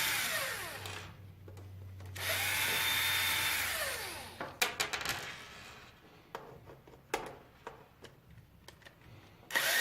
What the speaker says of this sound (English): So it's just removing 1, 2, 3, 4 screws.